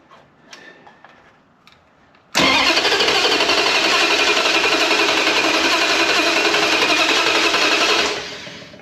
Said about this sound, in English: let's crank this up, get some pressure in here, see what happens.